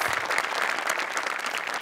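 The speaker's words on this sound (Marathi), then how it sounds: "त्यांच्यासाठी एक जोरदार टाळ्या" An audience at a comedy show claps in a dense, steady burst of applause filling the whole moment, loud and even.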